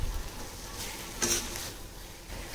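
Brinjal masala being stirred in a kadai, a soft scraping stir with a low frying sizzle underneath and a brief louder scrape near the end, heard close with no talking.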